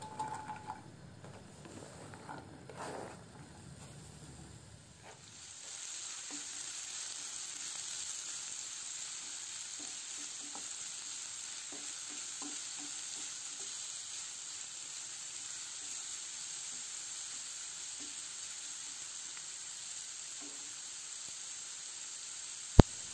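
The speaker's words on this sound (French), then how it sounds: "Et dans cette poêle, je vais les faire venir pendant quelques minutes en ajoutant un peu de l'huile végétale" Vegetables sizzle in vegetable oil in a frying pan, with a few seconds of clatter and handling before a steady, fairly quiet hiss settles in and carries on alone.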